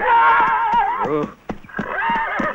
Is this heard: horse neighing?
yes